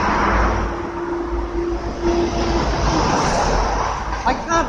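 Two Matrix out-of-service buses pull up behind on a street, giving a steady, loud rumble of diesel engines and traffic with a brief squeal of brakes near the end.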